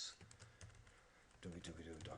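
Fingers type a git clone command on a computer keyboard, a quiet patter of separate key clicks with a denser burst toward the end, close and faint with no voices.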